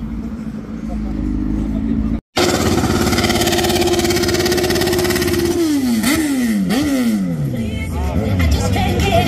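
A loud camper van engine with its exhaust pipe removed idles roughly, then revs up and down in several sharp bursts, raw and unmuffled, close by.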